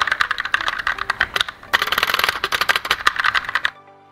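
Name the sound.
typing on Rexus mechanical keyboard with brown switches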